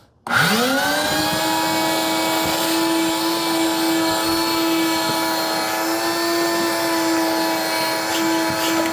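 A vacuum cleaner spins up and runs steadily with a loud, close, high whine while sucking debris from the back shelf area of an abandoned DeLorean, with no voices over it.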